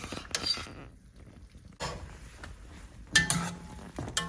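Cooked pasta being tossed into shrimp linguine alla cognac in a pan, giving bursts of clattering metal utensil and pan scrapes separated by quieter gaps, close and fairly loud.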